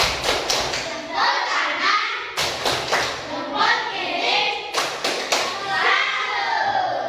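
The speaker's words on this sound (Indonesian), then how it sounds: "Kita beri tepuk salut" Schoolchildren in a classroom perform the 'tepuk salut' clapping routine, with three bursts of rhythmic, patterned claps and thumps, each a couple of seconds long, mixed with lively children's voices.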